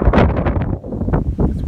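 Strong wind buffets the microphone at a mountain lookout under low cloud, a loud, close, continuous rumbling roar with gusty surges and no voices.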